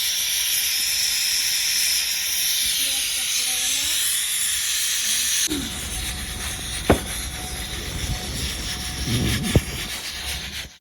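A pressure cooker gives off a loud, steady hiss of escaping steam. Partway through, the hiss turns rougher and broader, with a couple of sharp knocks.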